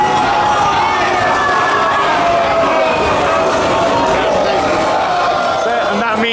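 Crowd noise from riders and spectators at an Efteling amusement park coaster as a train comes in, a dense continuous roar of many voices with shouts and calls, loud and close throughout.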